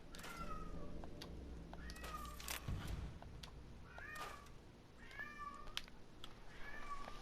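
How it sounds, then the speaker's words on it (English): A cat meows repeatedly in the background, about six drawn-out, rising and falling cries spread across the span, faint and distant beneath steady video-game sounds, with no talking. "you may be able to hear in the background, but I'm cat sitting today"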